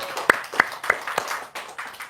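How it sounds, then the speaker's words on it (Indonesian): Audience clapping at a seminar-style talk: several distinct, evenly spaced claps ring out in a short burst, fairly close and moderately loud, with faint background murmur. "Tepuk tangan dulu dong."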